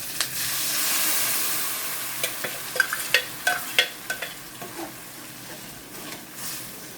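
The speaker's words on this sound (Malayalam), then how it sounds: "ഇനി നമ്മൾ അരച്ചു കൊണ്ട് വെച്ചേക്കുന്ന അരപ്പ് ചേർക്കാം" Ground spice paste goes into a pan of frying onions and green chillies, a steady sizzle broken by a run of sharp stirring clinks and scrapes in the middle.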